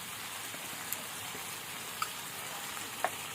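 Banana stem frying in a pan with a little water, a faint, even hiss of sizzling with a few sharp pops spaced about a second apart.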